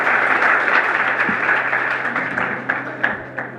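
Audience at a youth forum in Kankan applauding, a dense wash of clapping from many hands in a hall that holds steady and then gradually thins out.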